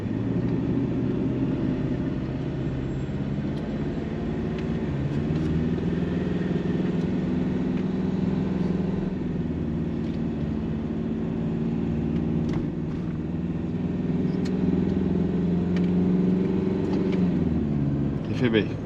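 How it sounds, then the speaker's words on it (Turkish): A Ford Raptor pickup towing a caravan pulls away uphill, a low steady engine drone rising slightly as it climbs, heard from inside the cab with people talking over it. "Bak şimdi yokuş yukarı mesela kalkıyoruz."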